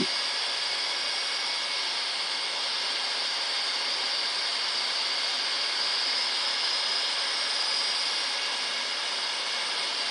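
A handheld electric hot air gun blows heat onto a Royal Enfield motorcycle engine crankcase. It gives a steady, unbroken whooshing roar at a constant pitch for the whole stretch, and no one talks over it.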